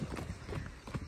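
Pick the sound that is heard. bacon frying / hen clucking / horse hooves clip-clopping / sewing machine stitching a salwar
horse hooves clip-clopping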